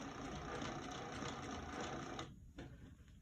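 Sewing machine stitches a seam on a lined zip pouch, a steady, close, fast mechanical whir that runs continuously and then briefly pauses near the end before starting again more softly.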